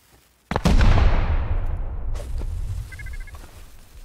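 A loud, sudden explosion in the survival video game Rust during a raid, a sharp blast followed by a long rumbling decay lasting several seconds, with no talk.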